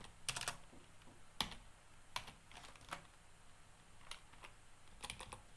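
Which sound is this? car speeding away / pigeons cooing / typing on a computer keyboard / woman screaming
typing on a computer keyboard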